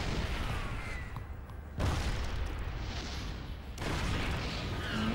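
Gunfire and explosion-like bursts from a strategy video game battle, a dense steady crackle of shots and booms that continues throughout at a fairly even level with two sharper surges.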